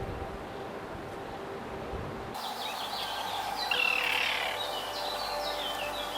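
Terns calling at a colony on a river island: after a quiet start, a busy chorus of high, sharp chirps and cries breaks in and carries on over a steady outdoor background.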